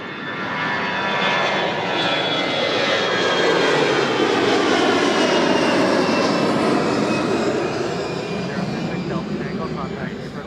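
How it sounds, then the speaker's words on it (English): An Air Canada Rouge Airbus jet at Toronto Pearson airport makes a loud, steady engine roar that swells and then eases slightly as the aircraft passes nearby. "Is this an Airbus? I think. Another Rouge."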